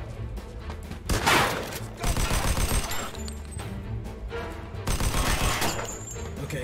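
Gunfire in the Mafia II video game: loud bursts of automatic fire and repeated shots with impacts and crashes, several intense volleys across the stretch.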